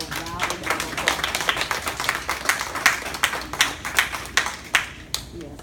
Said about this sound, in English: would you please give my awesome unit a round of applause?